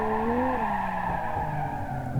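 A car in BeamNG.Drive on the West Coast USA map brakes hard and skids. The tires give a loud, steady squeal that slides slightly lower in pitch over about two seconds.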